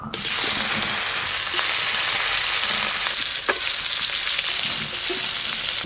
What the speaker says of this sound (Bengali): তেল বেশ ভালো করে গরম হয়ে গেল প্রথমে শোল মাছগুলো ভাজা করবো